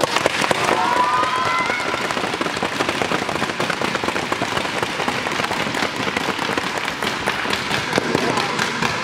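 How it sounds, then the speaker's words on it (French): A crowd at a roller hockey camp applauds loudly and continuously, a dense crackle of clapping hands with a few cheers rising briefly near the start. "Donc on l'applaudit fort."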